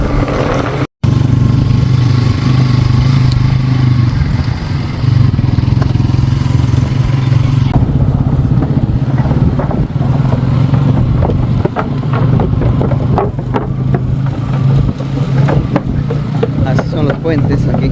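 Pulsar 180 motorcycles ride along a sandy dirt mining road in the desert near Puerto Maldonado, their engines droning steadily and close for the whole stretch, joined by clattering and passing rumble, with voices talking over the noise.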